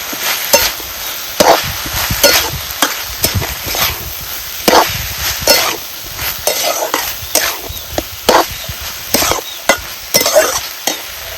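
Ground masala mixture for ghosavale bhaji is sautéed in a pan over a wood-fired stove, with loud, rhythmic scraping strokes of the spatula repeating over a constant sizzle.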